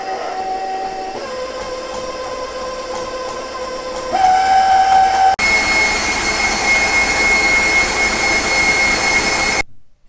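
An electric mixer whips meringue mixture for a Baked Alaska, its motor whine stepping up in pitch before settling into a loud, steady high-speed roar that cuts off abruptly at the end.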